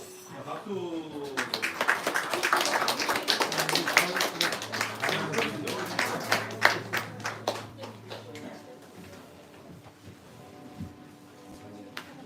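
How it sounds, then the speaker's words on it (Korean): Congregation at a Sunday morning church worship service clapping in congratulation, a dense burst of applause that builds and then thins out, with voices and a sustained low tone underneath. "박수."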